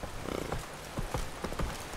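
A horse's hooves clip-clop at a steady rhythmic pace in The Witcher 3: Blood and Wine, with moderately loud, evenly spaced hoofbeats and no talking.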